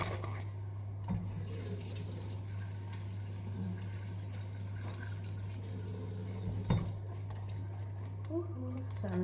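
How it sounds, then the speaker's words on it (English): Cold tap water running into a kitchen sink as food is rinsed, a faint continuous splash over a steady electrical hum, with a few light knocks and quiet speech. "So I'm rinsing it in some cold water."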